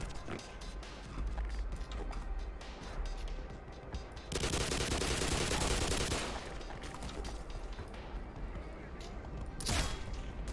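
Gunfire in the video game Black Mesa: scattered shots and clatter build into a loud, sustained volley through the middle, then one sharp blast near the end, all over busy game noise.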